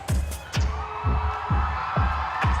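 A lively crowd of students at a school poetry slam cheers and shouts over a steady thumping beat that pulses about twice a second, loud and close.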